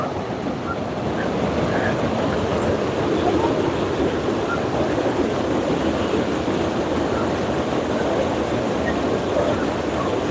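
Waterfall at the Old Mill in Pigeon Forge, a constant loud rushing roar of falling water heard from nearby, steady throughout with a little wind buffeting on the microphone.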